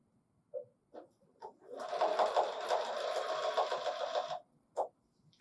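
A BERNINA sewing machine stitching free-motion quilted feathers, whirring in one steady burst of about two and a half seconds, framed by a few soft clicks and taps before and after.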